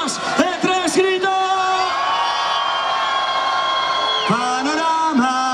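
A crowd at a youth festival orchestra concert in Lestedo shouts and whoops together on a count of three, loud sustained yelling with a few rising calls at the start and end.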